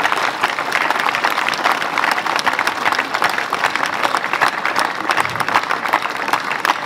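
A crowd gathered at a bullring anniversary and trophy ceremony applauds steadily. The clapping is busy and continuous at moderate loudness, with no voices over it.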